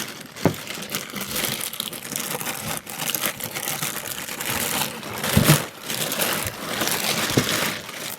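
Crinkly rustling and crumpling of plastic packaging and polystyrene close up while unboxing a coverstitch sewing machine, in irregular bursts with a few sharper crackles.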